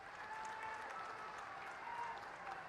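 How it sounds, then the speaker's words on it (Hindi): A crowd at a public government event in Shivpuri claps steadily, a dense wash of applause that sounds somewhat distant and even throughout, with no speech over it. "शिवपुरी की तालियां सुननी चाहिए।"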